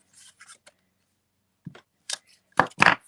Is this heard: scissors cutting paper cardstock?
yes